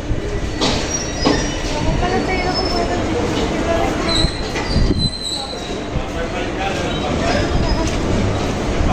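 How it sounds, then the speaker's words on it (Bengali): A freight train pulls out of Barrackpore station, a broad rumble of rolling wagons with high wheel squeals cutting in and out, loud and close throughout, with some voices faintly mixed in. "তো এখন বেরিয়ে যাচ্ছে ব্যারাকপুর স্টেশন"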